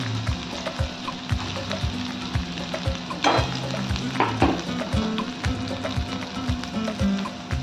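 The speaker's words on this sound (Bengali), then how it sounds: "পেঁয়াজটাকে একটু ভেজে নেব।" Onions sizzle and crackle steadily in hot oil, a close, continuous frying hiss with occasional scraping stirs.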